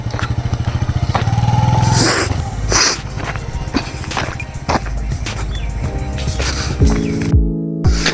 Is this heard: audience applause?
no